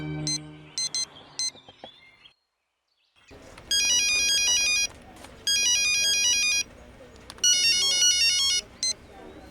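A telephone rings with an electronic ringtone in three loud, evenly spaced bursts of beeping tones, after a short noisy stretch and a moment of silence.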